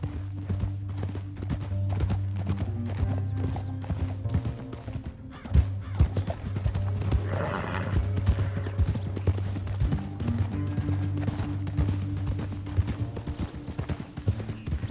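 Horse hooves clip-clop in a steady, even rhythm over a low, sustained background tone, with a brief neigh partway through, in the video game Red Dead Redemption 2.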